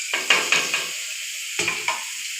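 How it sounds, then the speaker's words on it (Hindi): Chopped carrots and capsicum tossed into a hot pan for Chinese chicken rice, giving a few short sizzling bursts and spatula scrapes in two quick clusters, close and clear with no talking. "अभी सब्जियों को फ्राई करूंगी। ये गाजर है, ये शिमला मिर्च है,"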